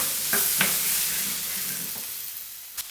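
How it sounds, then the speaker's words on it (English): Sliced onion and mushrooms hiss and sizzle steadily in olive oil in a frying pan, broken by a few soft scrapes and clicks as a utensil stirs them. "Continuously stir it in so this avoids the onion from burning, and also add in the sliced mushrooms"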